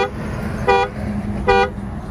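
Two short car horn honks from a 2022 Mahindra Thar, sounded by key fob about a second apart, sound clearly over a low steady background hum at night.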